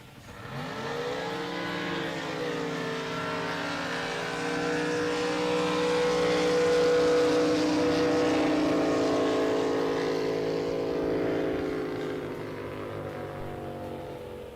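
Drag racing boat in qualifying at a 2022 SDBA event, its engine roaring steadily and loudly throughout, pitch climbing early and holding a sustained high howl before easing slightly at the end.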